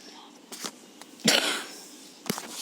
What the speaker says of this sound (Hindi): सॉरी खांसी आ गई थी